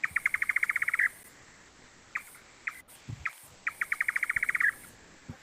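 An Indian nightjar call from a played recording: two fast, rattling trains of evenly spaced, clear notes with a few scattered single chirps between them, distinct and without talk.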